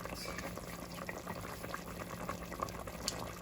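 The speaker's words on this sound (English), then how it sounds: "So I'm just dropping it in my pot." Dough dumplings dropped into a pot of boiling Jamaican oxtail gravy, a steady close bubbling simmer with faint small plops, no talk.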